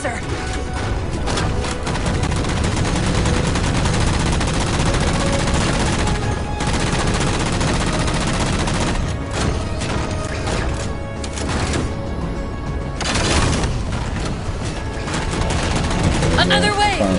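Rapid gunfire from a Halo 4 firefight on Legendary difficulty, dense and continuous bursts layered over game music and effects, with a voice talking over the shooting throughout.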